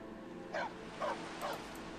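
A stray dog in the video game Skyrim gives three short yips spaced about half a second apart, faint against a soft steady background hum.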